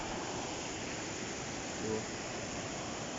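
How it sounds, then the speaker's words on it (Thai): A river flowing down from an upstream waterfall gives a soft, continuous watery hiss, fairly faint and even, with a brief slight swell near the middle and no talk over it. "แม่น้ำสายนี้ครับเป็นแบบข้างบนนู้นเป็นน้ำตกนะฮะ ไหลมาจากนี้"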